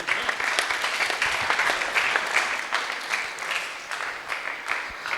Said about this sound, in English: Big round of applause to ma'am,